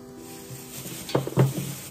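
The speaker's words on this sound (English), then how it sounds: "my onions. I'm going to throw in there." Onions, with ginger and garlic, hit a hot wok and sizzle, starting as a soft hiss that builds into two louder crackling bursts near the end, close by with no talk.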